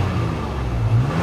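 A 2007 Toyota FJ Cruiser 2WD with a VVT-i engine gives a single short rev from idle, a low mid-range engine drone that swells briefly near the end, close and alone.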